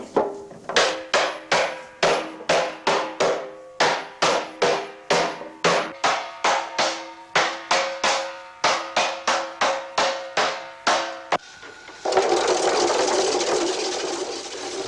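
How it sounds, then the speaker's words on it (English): Cooper hammering a steel hoop down onto a wooden barrel cask, about twenty sharp, ringing metallic blows in a steady rhythm, close and loud, ending in a burst of broad hissing machine noise. "the hoop is refitted and hammered hard on each end"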